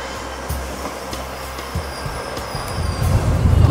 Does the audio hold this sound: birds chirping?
no